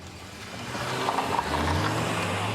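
A car pulls away from a police checkpoint, its engine growing louder and more strained as it accelerates close by, with no voices over it.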